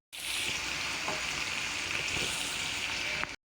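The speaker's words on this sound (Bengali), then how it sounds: "পেঁয়াজগুলোকে বাদামি করে ভেজে নিব।" Onions fry in a pan with a bright, steady sizzle that holds loud and close throughout, broken only by faint stirring scrapes, with tomato in the pan, and no voices, before it cuts off abruptly.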